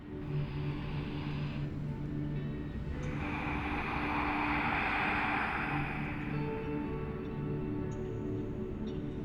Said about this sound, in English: you could hear that breath. And when you could hear that breath, you are present. And it'll sound like gentle ocean waves.